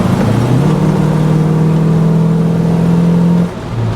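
A stock 1970 Chevrolet El Camino with a non-performance 350 V8 drives along, its engine note steady and loud with a sustained low drone, easing off near the end.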